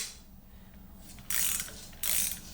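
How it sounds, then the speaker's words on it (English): Ratchet turning to loosen a rusted rounded hex fastener gripped by an extractor, two short bursts of fast clicking pawl ratcheting, close, over a quiet background. "our ratchet and loosen it up"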